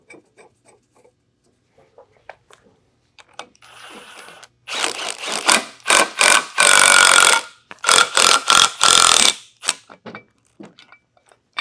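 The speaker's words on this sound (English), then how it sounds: "And then that pulls that end cap off" A homemade bolt-on puller works an end cap off a Cyclone CYE 101 electric motor in a shop, giving loud bursts of grinding, ratcheting mechanical noise in several strokes after a few quiet clicks.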